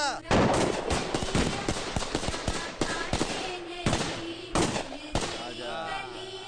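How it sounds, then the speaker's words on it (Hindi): Rapid, sharp gunshot cracks fire in quick irregular bursts during a wedding procession, loud and close, sounding almost like firecrackers, with voices faintly mixed in. "ये मंडोर के बंदूकों की आवाज पटाखे की आवाज लग रही है।"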